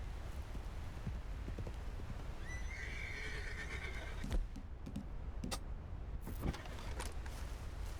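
A horse in Red Dead Redemption 2 gives a loud whinny mid-clip, followed by a few sharp hoof clops and thumps over a low steady game background.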